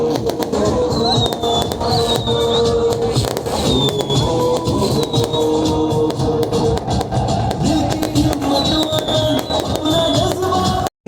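Fireworks display at a Karachi celebration: a dense, continuous barrage of loud crackling bursts and pops over a roaring crowd, with whistling rockets rising now and then.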